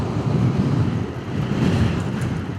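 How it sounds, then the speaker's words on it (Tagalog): Strong wind roars across the microphone on the road toward Puerto Galera, Mindoro, a dense low rumbling gust that stays steady and loud for a few seconds with no voices. "Lakas ng hangin"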